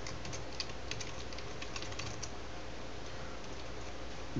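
Quiet, close keystrokes on a computer keyboard as a password is typed, a short burst of light irregular clicks that trails off into faint room hiss.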